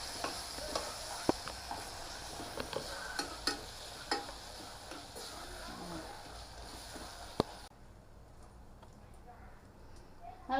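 Ginger garlic paste sautéing in a pan for goat head curry, with a faint steady sizzle and scattered sharp clicks of a utensil against the pan. The sizzle quietens toward the end.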